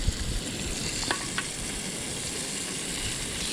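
Steady, crackling sizzle of fish frying in butter in a hot pan, with a few faint clinks over the constant hiss.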